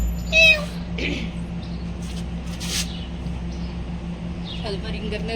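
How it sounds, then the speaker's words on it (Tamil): A cat meows in short, high calls near the start and again toward the end, over a steady household hum with faint people talking in the background. "அம்மா பூனை அடியில கிடக்கும்"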